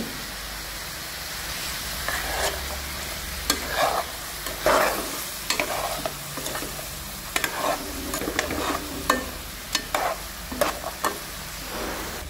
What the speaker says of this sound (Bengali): তো কস্তুরি মেথি দেওয়ার পরে 1 মিনিট মতন ভুনে নিয়েছি আমি।